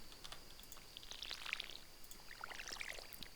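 Watering crops in the Stardew Valley video game, a short splashing pour of water from a can, two quick bursts under a second each, fairly faint with no talk.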